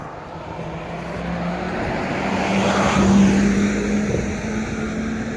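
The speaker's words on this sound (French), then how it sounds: "Il y en a un autobus." A city bus passes on the street, its engine rumble swelling to a peak midway and then fading, with a low steady drone beneath the passing sweep of road noise.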